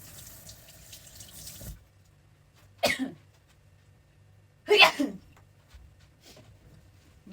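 Two sharp sneezes a couple of seconds apart, close and loud, with running tap water from washing fish and faint background noise before them and a small noise after.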